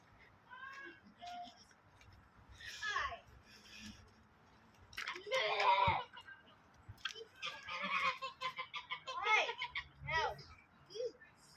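Geese or ducks on a community farm in the UK honk and quack in repeated bursts, close and fairly loud, with a few people talking in between.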